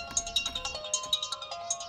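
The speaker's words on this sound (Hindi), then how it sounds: "अबे कौन वीआईपी आदमी सुबह सुबह तुझे फोन कर रहा है बे?" A mobile phone rings early in the morning with a rapid, steady repeating electronic ringtone melody, fairly close and heard alone.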